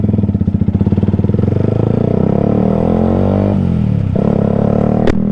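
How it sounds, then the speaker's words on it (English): A 125cc motorcycle engine runs steadily nearby with a loud, throbbing low putter, its pitch wavering slightly, then a single sharp click near the end. "she doesn't like the sound of my bike, does she? She always looks at it when I turn it on."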